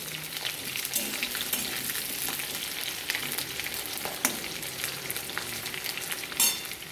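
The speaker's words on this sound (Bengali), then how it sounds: "এবার একটু ভাজা ভাজা করে নিই। দেখো পটল আলু মোটামুটি ভাজা হয়ে গেছে" Chunks of potato and pointed gourd fry in a pan for a vegetarian dish, giving a steady bright sizzle and crackle broken by spatula stirs and a sharp clack near the end.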